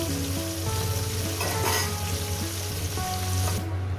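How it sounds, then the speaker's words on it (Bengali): Fish frying in hot oil for a Bengali curry, with a steady close sizzle and crackle that keeps going evenly throughout. "মাছ ভেজে নিয়ে দিচ্ছি"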